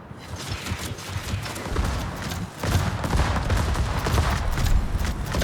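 Warship main battery guns fire in the World of Warships game, a dense, loud barrage of rapid overlapping blasts and booms that continues steadily without pause, with no speech.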